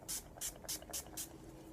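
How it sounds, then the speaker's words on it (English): Five quick, hissing spritzes from an Avon makeup setting spray bottle in a steady rhythm, close and crisp, with no voices. "I like to set my makeup with the Avon makeup setting spray"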